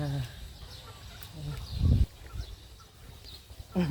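Chickens clucking at a Thai country garden home on a weekend, short scattered clucks and bird calls at moderate distance, with a louder burst midway and some background voice activity.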